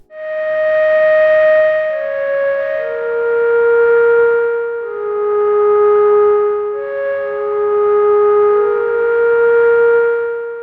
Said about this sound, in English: the instrument I'm using there is this Mini Moog Model D synthesizer